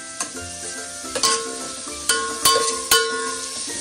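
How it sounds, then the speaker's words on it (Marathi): Tomatoes fry in a pan for a spicy village-style mutton rassa, with a soft sizzle and a handful of sharp spatula clacks against the metal, growing more frequent toward the end. "टोमॅटो भाजून घेऊया तर हे चांगलं आता फ्राय करून घेऊया"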